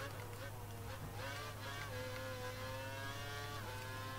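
A Formula 1 car engine from the F1 2012 racing game at Abu Dhabi whines at high pitch and climbs through the revs, with one brief dip at a shift, faint under the other game sound.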